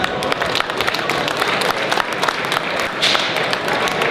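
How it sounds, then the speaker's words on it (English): Crowd clapping at a classic car show unveiling of a 1971 Ford Mustang Mach 1, a moderate, continuous patter of applause with scattered cheers and crowd noise, heard from within the audience. "big round of applause"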